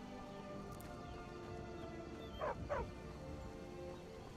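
Dog in the game Skyrim gives two quick faint barks in a row midway through, over a quiet ambient background.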